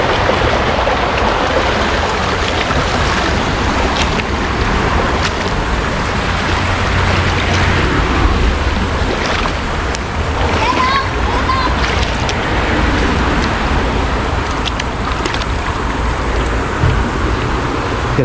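River water rushes and sloshes steadily at a collection spot used for gathering snails, a loud, continuous broadband wash with occasional splashes.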